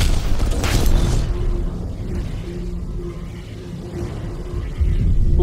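A heavy grenade launcher explosion in the video game Predator: Hunting Grounds, a loud booming blast that fades into a low rumbling tail, with a second rumble rising near the end.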